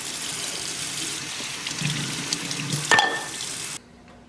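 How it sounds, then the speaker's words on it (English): Kombucha bottles are rinsed under a running tap, a steady close hiss of flowing water with a few clinks of glass near the end before the water shuts off. "I like to give the bottles a quick rinse once I've got the caps on tight"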